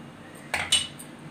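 A spoon mixing custard powder in a bowl, giving two quick, close metallic clinks against the side with quiet room sound between them.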